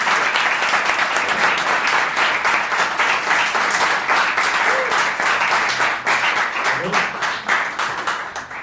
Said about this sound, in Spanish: Les pido por favor un fuerte aplauso para el ingeniero Ruiz.